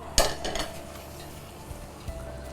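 Roasted coconut, cashews, raisins and almonds being mixed for Chettinad Rangoon puttu: one sharp utensil clink at the start, then soft scraping and a couple of faint taps, close by with no talking.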